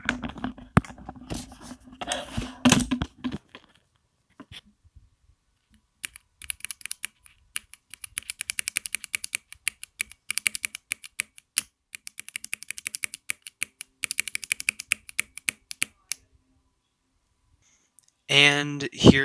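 Rapid typing on a Corsair Strafe RGB MK.2 mechanical keyboard fitted with standard Cherry MX Red switches, a dense run of crisp clacks in bursts with short pauses, close and clear, preceded by brief talk.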